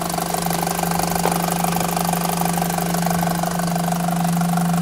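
A Volkswagen Golf engine running roughly with a clogged, coked-up exhaust gas recirculation valve, heard close up as a steady, loud mechanical drone with a constant hum and rattling texture throughout.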